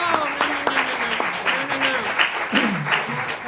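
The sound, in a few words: audience applause at candidate forum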